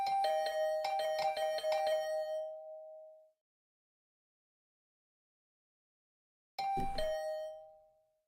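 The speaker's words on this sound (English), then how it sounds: "The usual morning announcement was drowned out by the sound of my doorbell ringing over and over." A doorbell in the video game The Hundred Line: Last Defense Academy rings again and again in a quick burst of bright ding-dong chimes that die away. After a silent gap, one more ring sounds and fades.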